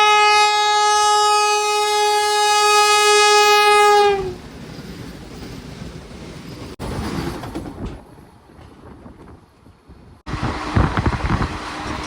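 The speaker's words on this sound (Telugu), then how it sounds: "విశాఖపట్నం నుంచి సిగ్నల్ వదిలే వందే భారత్ ఎక్స్ప్రెస్ ట్రైన్ ఇది." A Vande Bharat Express train sounds a long, loud, sustained horn for about four seconds, then rushes past with rumbling wind noise and rattling carriages, surging again near the end.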